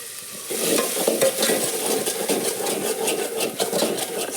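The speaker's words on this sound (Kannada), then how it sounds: "ಕಾಳಿಗೆ ಒಗ್ಗರಣೆ ಕೊಟ್ಟೆ" Tempering for lentils sizzling in hot oil, a dense continuous crackle and fizz with rhythmic stirring scrapes, close and fairly loud, with no talk.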